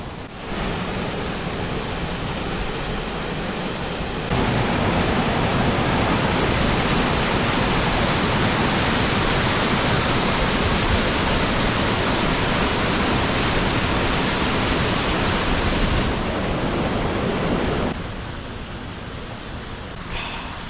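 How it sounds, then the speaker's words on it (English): A hidden waterfall in Sydney roars loudly and continuously from close by, a dense steady rush of falling water that swells stronger for most of the stretch before easing slightly. "listening to the sound of this waterfall"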